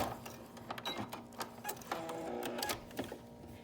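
A sewing machine back stitches a fabric face mask, giving a busy mechanical whirr with rapid needle clicks that come in short bursts and pauses, close and moderately loud.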